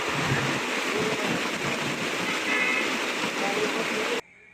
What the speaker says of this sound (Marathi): खूप मोठा पाऊस पडतोय बाहेर